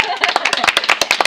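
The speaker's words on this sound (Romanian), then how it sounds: "noi aplaudăm" Quick rhythmic hand claps from a few people, close and sharp, with some voices mixed in.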